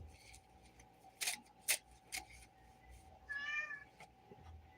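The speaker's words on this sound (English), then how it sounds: "That's what my cat says." A pet cat gives one short, close meow amid quiet room sounds, followed by a few sharp ticks and clicks.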